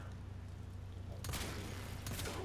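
Laetum pistol fire in Warframe, a burst of bright sharp shots starting midway and repeating briefly over a steady low game hum.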